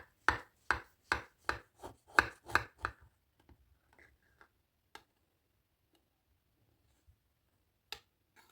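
A knife cuts through a soft, still-warm baked semolina and apple cake made with kefir in about seven quick, even strokes, then a few faint scattered taps follow in near silence.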